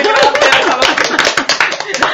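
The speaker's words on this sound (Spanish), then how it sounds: "agradecer un aplauso también para él" A small group claps for a podcast listener, quick overlapping hand claps with laughter and talk mixed in throughout, loud and close for about two seconds.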